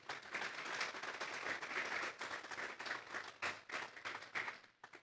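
Applause from a church congregation fills the space, sustained, dense clapping that swells and dips for about five seconds before tapering off at the end.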